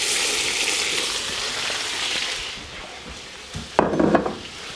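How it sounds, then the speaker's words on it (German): Teriyaki chicken thighs sear in a kazan with a steady, close sizzle that eases slightly midway, then a brief clatter of cookware near the end. "Die brutzeln wir jetzt richtig an, zwischendurch mal ein bisschen drehen."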